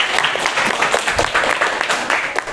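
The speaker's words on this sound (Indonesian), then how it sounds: "Bisa kasih tepuk tangan untuk Isma" Classroom audience claps for a student named Isma, a short burst of close, fairly loud clapping with uneven rhythm and some murmur underneath.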